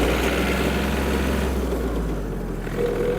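Small Yanmar F-210 or Kubota T-220 compact tractor engine running hard as it accelerates to top speed, a loud steady low rumble with a drone that eases somewhat partway through.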